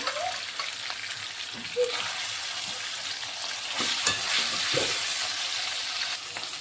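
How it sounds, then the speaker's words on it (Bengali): Chicken pieces frying in oil in a pan, a soft steady sizzle with occasional stirring scrapes and small bursts of crackle, close and without talk. "একইভাবে সব চিকেন আমি ভেজে নেব"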